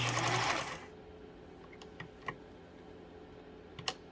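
A Pfaff 230 sewing machine, set to a very short stitch, runs in one loud, brief burst and then falls quiet apart from a few faint ticks and clicks.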